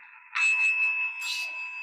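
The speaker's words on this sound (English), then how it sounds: "She's dinging the bell again." A small bell rings out in two quick dings over a steady electronic tone, bright and close in an otherwise quiet room.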